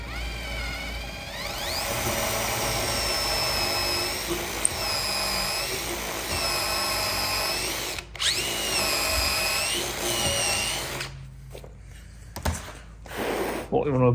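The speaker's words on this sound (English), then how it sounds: "Then drill a pilot hole through, or a countable hole." Power drill boring a pilot or countersink hole through a timber frame, a loud continuous whine in several bursts that stop and restart, with a person talking over it.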